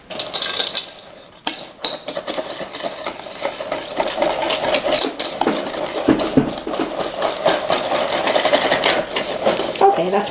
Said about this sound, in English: but first we need to whisk it.